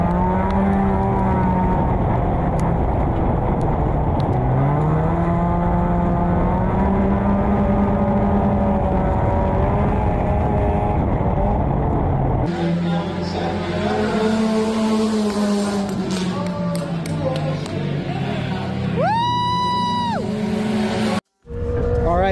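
Compact race car engine roaring through a heat race at El Paso County Raceway, a loud close drone whose pitch rises and falls with throttle, a sharp break late on, no talk.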